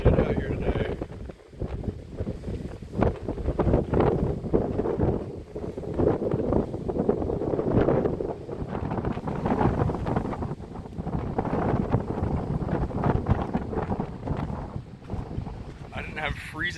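Strong cold wind gusts on the Pacific Crest Trail, roaring and buffeting the microphone in uneven surges throughout, loud and close, with a person speaking intermittently beneath the rushing noise.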